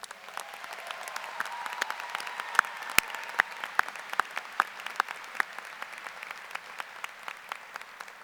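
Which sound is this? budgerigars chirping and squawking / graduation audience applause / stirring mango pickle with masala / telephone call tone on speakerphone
graduation audience applause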